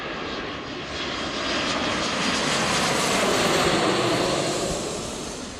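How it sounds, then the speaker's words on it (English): Delta airliner jet engines roar at Seattle airport, a broad steady rush that swells slightly and then eases over several seconds, heard from a moderate distance with no talking. "That's just our Delta flight here."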